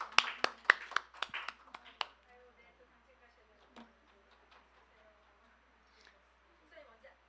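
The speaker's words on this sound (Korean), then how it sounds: "여러분 박수로 마치겠습니다." A church congregation gives a short burst of applause to close an evening service: a few seconds of scattered, moderately distant clapping that quickly dies away into a quiet hall with faint stray sounds.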